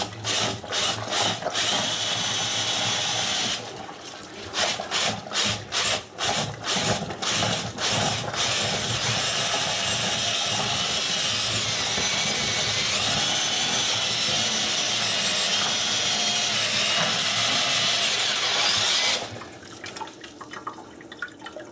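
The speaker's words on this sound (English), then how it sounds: "chuck the brush back up in the drill, give her a second round" Loud mechanical whirring and ratcheting of a power drill spinning a toilet brush in water to peel potatoes, starting and stopping in bursts before a long sustained run, then cutting off.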